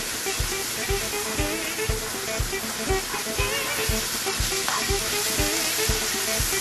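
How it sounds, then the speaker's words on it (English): Ground beef and onions fry in a pan with a steady loud sizzle, while a spoon scrapes and stirs in a regular rhythm of soft knocks roughly twice a second. "we're just mixing it around now, making sure that the beef gets brown and well done."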